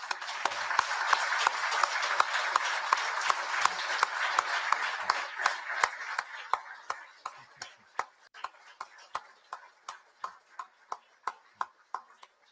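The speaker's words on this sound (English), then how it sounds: "please stand and let's give them a round of applause" An audience at the 50th Edmund Fitzgerald memorial service applauds veterans: dense clapping for about six seconds that thins to a few scattered, sharp claps, with faint voices underneath.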